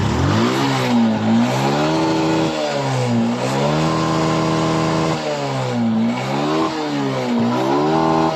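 A Suzuki Smash 115 motorcycle engine, after repair of a misfire and sluggish pickup, revs repeatedly on a test ride, rising and falling in loud close bursts with a steady buzzing drone between.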